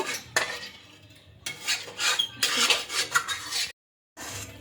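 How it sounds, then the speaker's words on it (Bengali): Metal utensils scrape and clatter against a kadai in bursts, with a brief quiet gap near the end. "ততক্ষণে আমি কড়াইয়ের গায়ে যে মশলাগুলো আছে এগুলোকে আমি ভালো করে ধুয়ে নেব"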